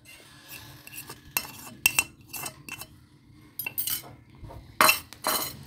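Mashed boiled purple sweet potato mixed into doughnut dough in a bowl, heard as irregular close scraping and clinking of a utensil against the bowl, with bursts of stirring and pauses between.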